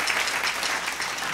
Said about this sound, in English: Please be generous with your applause